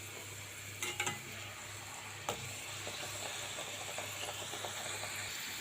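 Luchi, puffed flatbread, deep-frying in hot oil in a wok: a steady sizzling hiss with a few sharp crackles and pops early on, fairly faint and continuous, no talk.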